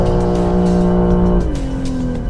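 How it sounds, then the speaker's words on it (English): A 2021 BMW M3 Competition drifts with its engine held at high, steady revs, then the pitch drops partway through while the tires squeal, loud and close throughout. "We'll go for another drift now, see what we can get."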